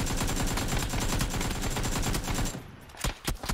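Full-auto AK rifle fire in a shooting game, a loud, rapid, steady burst of gunshots lasting a few seconds, then a few separate single shots as the burst breaks off.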